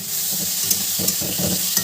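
Paneer and potato curry with spices cooks in a pan, giving a steady, close sizzle of frying with soft stirring scrapes and occasional light taps, and no voices.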